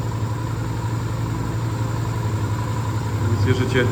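A 2001 Yamaha XV 125 Virago motorcycle engine idles steadily nearby, its revs settling down with a low, even rumble and no misfires.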